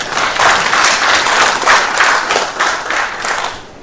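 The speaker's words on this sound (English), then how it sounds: "Now you can clap for Prime Minister's Office as the question." Audience applause at a community health partners' retreat fills the room, a dense, loud wash of clapping that swells and ebbs in waves over several seconds with no voices.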